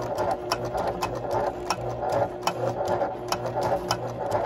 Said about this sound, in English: It will still sew very smoothly as you move the leather around.